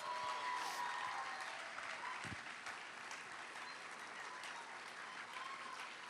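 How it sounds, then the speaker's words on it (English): Large outdoor crowd at the unveiling of the Embrace monument in Boston applauds in a steady, dense clapping wash that holds for several seconds at a distance, with faint cheers mixed in. "please give yourselves a round of applause right now"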